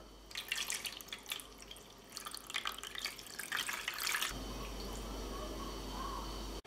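Tap water runs into a sink to soak pastrami in cold water, with irregular splashing and dripping that turns into a steady, even flow of running water partway through.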